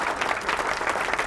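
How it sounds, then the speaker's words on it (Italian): Audience at a fashion show in Ancona applauding, a brief dense burst of many hands clapping at moderate distance with no speech. "un applauso per voi, un applauso per chi sta per sfilare"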